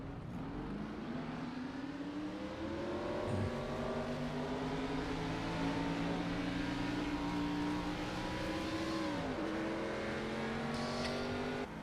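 A pack of race car engines roars together at the start of a race, revving and building steadily at a distance, a dense continuous drone with no voices.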